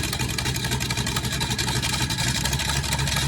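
A rebuilt 289 V8, bored 30 over, idles nearby in a continuous, loud, lumpy drone with a steady rhythmic pulse and no talk.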